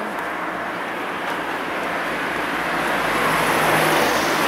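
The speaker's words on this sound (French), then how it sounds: "2 voitures qui arrivent." Two cars approach along a road, their steady tyre and engine noise swelling gradually louder over a constant traffic hum, with no one talking.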